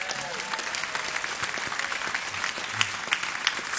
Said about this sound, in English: how about a round of applause for our idols in the hall?